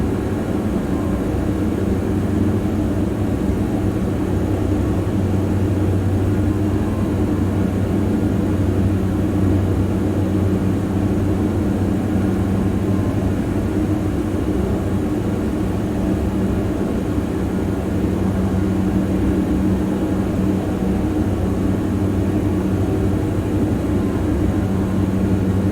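Diamond DA42 twin-engine airplane flying low through gusty, turbulent air, its steady loud engine and propeller drone filling the cabin continuously with no talk.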